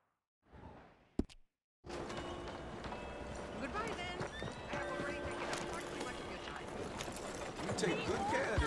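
Horse whinnies and hoof clip-clops in Red Dead Redemption 2, a short neigh near the start followed by steady hoofbeats and game ambience with talk running over most of it.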